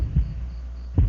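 Two slow heartbeat thumps sound in a video game, low and soft over a faint steady hum, with no voices.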